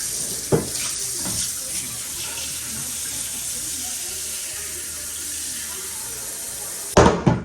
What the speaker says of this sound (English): And then I just put cold water.